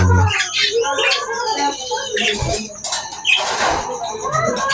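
Cockatiels inside a nest box give shrill, close squeaks and raspy hisses in short bursts, along with some scuffling and rustling.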